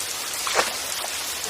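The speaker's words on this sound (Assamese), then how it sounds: "বৰষুণ নেৰিবই নেকি বাৰু?" Steady cartoon rain falls as an even, moderately loud hiss throughout, with a brief splashy peak near the middle.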